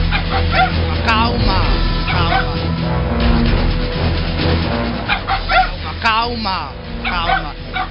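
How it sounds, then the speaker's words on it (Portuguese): Several dogs bark and yip excitedly at a household yard, repeated close barks and whimpers mixed with people talking over them, with faint chicken sounds in the background. "Tem os cachorros"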